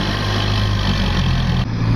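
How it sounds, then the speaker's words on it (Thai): A Kubota MU5501 tractor runs while pushing and leveling soil in a rice field, its engine a steady close drone that dips briefly near the end, with no voices. "ดันให้มันเสมอครับไล่ดินมาจากข้างบนนะครับ"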